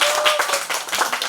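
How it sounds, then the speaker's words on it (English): An audience at an International Women's Day event applauds women, with dense, steady clapping from many hands throughout, loud and close, no talking over it. "Women, give yourself a big clap."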